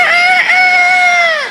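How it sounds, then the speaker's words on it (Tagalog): A rooster crows once, loud and close, a long sustained cock-a-doodle-doo that holds steady before trailing off. "Mahilig tumilaok at manggising tuwing umaga."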